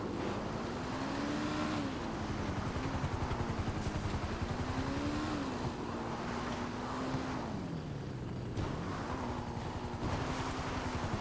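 Motorcycle engine in a video game, ridden along a mixed on-road and off-road escape route, holds a steady droning hum throughout with rising and falling pitch as the bike shifts and accelerates, constant and fairly loud with no talking.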